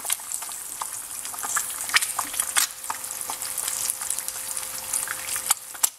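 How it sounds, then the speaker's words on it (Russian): Eggs fry in a pan with a steady, soft sizzle broken by small crackles and pops. The sound is close and quiet, and no one talks. "Потому что, как оказалось, все люди по-разному жарят яичницу."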